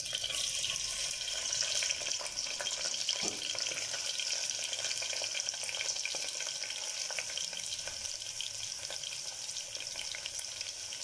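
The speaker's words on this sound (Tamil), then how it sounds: "இதோட நான் வெங்காயத்தை சேர்த்துக்கிறேன்" Onions sizzle loudly and steadily in hot oil in a pan for prawn biryani, a dense continuous crackling hiss close by with no talk.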